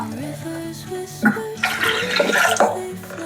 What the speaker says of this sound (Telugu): కొంచెం నీళ్ళు పోసుకుందాం.